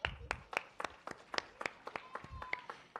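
A group of children at a literature festival game clapping hands, a quick series of distinct, fairly even claps, some sharp and some softer, with a bit of faint talk underneath.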